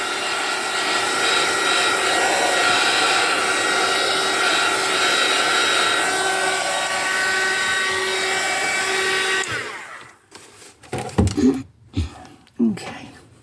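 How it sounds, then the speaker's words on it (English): A hair dryer blows steadily over decorated vintage index cards, a continuous loud whooshing whir for about nine seconds that cuts off abruptly, followed by a few brief handling knocks and rustles. "I'm just going to give it a little blow dry"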